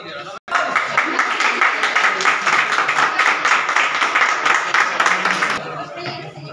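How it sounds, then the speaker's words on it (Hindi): A crowd at a Diwali gift event claps after a brief pause, a dense burst of applause lasting about five seconds before tapering, with people talking over it. "ताली बजा दो यार।"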